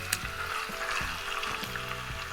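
Fish cooks in olive oil with garlic, salt and pepper over low heat for acqua pazza, giving a steady, close, crackling sizzle with small pops throughout.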